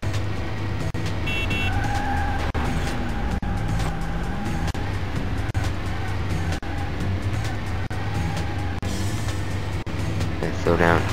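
A racing car in Beetle Adventure Racing speeds through a hotel hallway, its engine a continuous loud roar with shifting pitch, plus brief tire squeals and clunks, overlaid by a steady game music bed.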